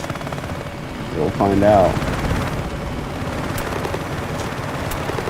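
A scout helicopter in the video game Battlefield 6 gives a steady rotor drone under the sounds of battle. A burst of gunfire swells near the middle, and a player speaks briefly over it.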